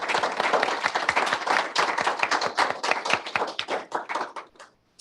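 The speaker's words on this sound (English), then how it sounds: "we should give everyone a round of applause just for all of their work" Applause from an audience at a transport innovation awards panel: a close, dense run of hand claps with distinct individual slaps, fading out and stopping near the end.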